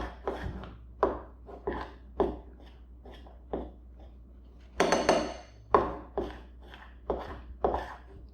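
Cloud dough stirred in a bowl, a utensil knocking and scraping against the sides in regular strokes about once a second, close by and moderately quiet, with no voices.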